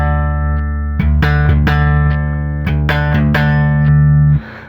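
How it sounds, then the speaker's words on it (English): Passive, non-active bass guitar played alone, with plucked notes ringing out over sustained low tones, a dull, less bright character, close and loud before cutting off abruptly. "This is just a regular non-active bass. And you can definitely hear the difference. This is just not as bright."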